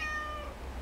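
A pet cat gives a single drawn-out meow, fairly close, over a steady low background hum indoors during a winter snowstorm.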